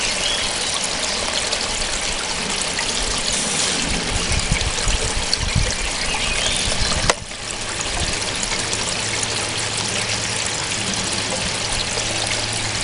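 Water carrying beach sand runs through a sluice box lined with silicone mats, a steady loud rushing pour and churn with a low pump-like hum underneath, continuous throughout with no talk.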